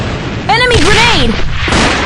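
A grenade blast in the AVA first-person shooter video game, a single sharp boom amid gunfire, with excited voices shouting over it.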